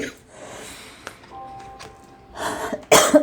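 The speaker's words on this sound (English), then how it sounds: "Sorry, I have to cough." A woman clears her throat and gives a couple of short coughs, the last burst loud and close, after a quiet stretch with faint murmured sounds.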